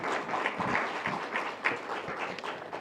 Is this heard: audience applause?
yes